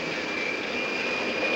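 B-52 bomber jet engines roar at takeoff from a Far East base during the Vietnam War, a steady, loud, broadband rumble and whine with no voices.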